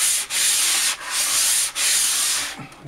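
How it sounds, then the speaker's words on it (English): Abrasive sanding sponge rubbed by hand over a surface to remove marks, a steady close scratchy rasp in three long strokes with brief pauses between them, no talking. "I will sand it right here to correct these marks"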